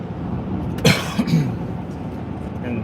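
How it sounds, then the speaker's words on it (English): A person with a lingering post-COVID cough gives a couple of short, rough coughs close by against a steady background rumble during a ride. "I apologize for the coughing."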